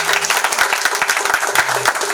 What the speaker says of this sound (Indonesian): Tepuk tangan untuk KPK.